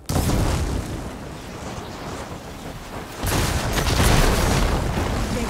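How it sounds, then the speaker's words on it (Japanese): Deep rumbling explosion blasting open a tunnel path in the video game Horizon Forbidden West, a sustained roaring boom that swells again midway, loud and close. "こいつを爆発させれば道を作れそうだ"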